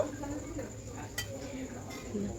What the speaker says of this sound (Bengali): সব মাছগুলোর মধ্যে দিয়ে দেব, দিয়ে একবার নাড়াচাড়া করে নেব